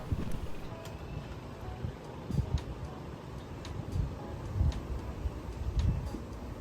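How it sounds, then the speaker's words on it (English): Wind gusting through the leaves of garden plants, including okra and cucumbers, heard as a steady outdoor rush with soft rustling and occasional swells of louder buffeting. "I always love watching the wind blow through the leaves."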